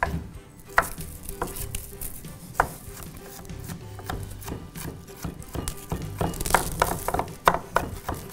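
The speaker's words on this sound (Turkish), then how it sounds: "Soğanları da ince ince doğruyoruz." A knife chops onions finely on a board in a kitchen, giving irregular close taps and knocks that quicken into denser bursts toward the end, heard alone without talk.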